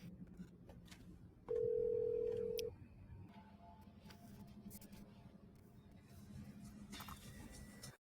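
A telephone number dialed in the film Lost Highway: a steady electronic tone for about a second, then faint clicks and low room noise, quiet and without speech.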